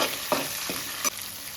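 Steady frying hiss of spices, green chillies and curry leaves tempering in hot oil, with a few soft stirring scrapes, close and fairly quiet, no voices.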